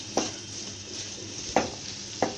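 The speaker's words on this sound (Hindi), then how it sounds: "चिकन बहुत अच्छे से यहाँ पे इसको भून लेना है।" Chicken for patties frying in a pan, a steady sizzle broken by three sharp spoon scrapes and clinks against the pan as it is stirred, close and clear without talk.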